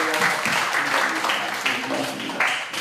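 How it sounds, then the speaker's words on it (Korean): A church congregation applauds warmly at a Baptist pastor's installation ceremony, a dense, continuous patter of many hands with a few voices mixed faintly underneath. "뜨거운 박수 한번 합시다"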